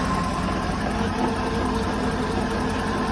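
A Mercruiser 6.2 boat engine idles while warming up after a new manifold install, a low, steady, fairly quiet rumble with even vibration and no voices.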